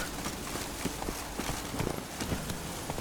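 Horse hooves clip-clopping in the video game Witcher 3: Wild Hunt, a quick irregular run of light hoof beats over a dense steady background wash.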